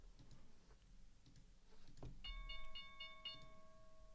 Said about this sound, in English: that bell always just rings my ears like crazy